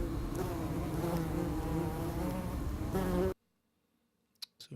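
A nest of more than a thousand yellow jacket wasps gives off a loud, steady droning buzz for about three seconds, then cuts off abruptly, leaving near silence broken by a couple of faint clicks.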